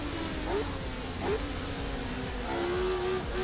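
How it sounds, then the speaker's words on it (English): Race car engine in Assetto Corsa fitted with the RSS V8 retro sound mod, heard from the cockpit as a steady drone with quick upward revs on shifts, fairly quiet and without talk. "I've put the RSS V8 retro car sound on this."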